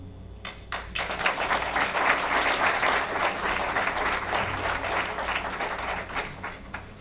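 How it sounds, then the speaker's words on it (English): Sustained applause from a gala audience at a Mattapan Tech event honoring a student, dense clapping rising quickly and holding steady for several seconds in a large room, with a faint voice or two underneath. "Please give Zakila another round of applause"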